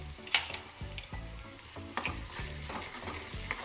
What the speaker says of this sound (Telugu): కొద్దిగా కరివేపాకు ఇవన్నీ వేసి మంచిగా వేగనివ్వాలి